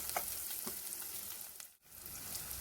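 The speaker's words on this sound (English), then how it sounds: "fry until the onions turn to translucent" Onions and green chilies fry in a pan with a soft, fairly quiet sizzle and a few light stirring taps, dipping to near silence for an instant before it resumes.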